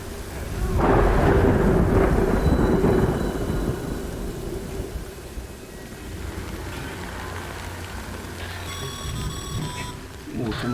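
Rain and thunderstorm in the video game Death Stranding: a loud rumble of thunder rolls over steady rainfall, easing to a softer downpour with faint tones near the end.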